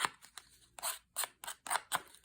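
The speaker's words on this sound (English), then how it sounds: "open my scissors up and just rough it up a bit" Scissor blades scraped across slick paper from a water flavor packet box, roughing up the glossy surface in about six short, crisp rasping strokes, close and clear with no talking.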